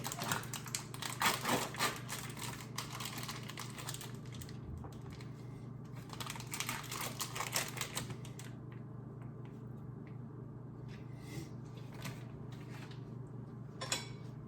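Vegetables are cut with a knife on a diagonal slant, giving quick runs of fast tapping chops that come in bursts with short pauses, over a steady low kitchen hum.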